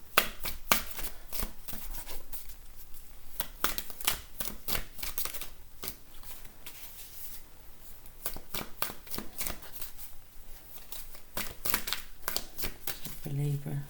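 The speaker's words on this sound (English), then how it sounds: "Give it a couple more shuffles." Close, crisp riffling and slapping of tarot cards being shuffled repeatedly in bursts, with brief pauses between shuffles and faint speech at times.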